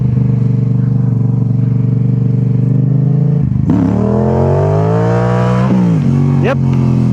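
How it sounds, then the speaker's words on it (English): Rebuilt motorcycle idling, then revving hard as it pulls a first gear power wheelie, the engine note climbing sharply and loud, then dropping back with a final quick blip. "Let's try a little first gear power wheelie, which I know is going to come up easy."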